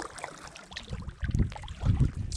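A canoe is paddled on a lake, with soft watery strokes and low swishing surges rising twice in a slow rhythm, close by and moderately quiet.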